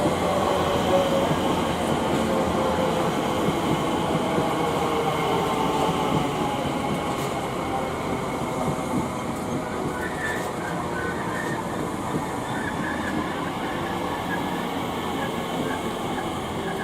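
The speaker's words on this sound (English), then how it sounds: "And I'll catch this train when it departs." A train rumbles through West Ealing station on the Great Western Main Line continuously and loudly, a dense roar with faint rhythmic wheel clatter and some high squeal, steady for the whole stretch.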